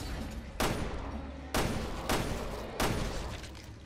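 Gunfire in the video game Resident Evil Revelations 2: four loud, sharp shots at irregular intervals, each with a short echoing decay, over a steady game ambience.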